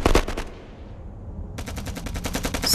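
A war film battle scene bursts with rapid machine-gun fire, loud and near, then a short lull before a fresh volley of rattling shots resumes.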